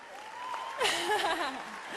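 Audience applause and cheering rise at the 2017 Miss USA preliminary competition at Mandalay Bay in Las Vegas, a short burst of clapping with whooping voices, fairly faint and brief.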